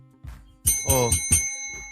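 A bicycle-style bell rings in a quick cluster of bright, ringing dings, loud and close, trailing off with a faint final tap.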